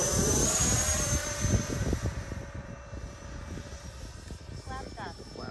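A small FMS Futura foam RC sport jet with a Reflex v2 gyro flies overhead, its electric ducted fan giving a steady whine. Someone talks over the sound, and the whine fades slightly as the jet moves away.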